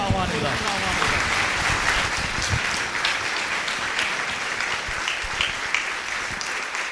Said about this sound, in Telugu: చప్పట్లు కొట్టి ప్రేమపూర్వకంగా ఆహ్వానిద్దాం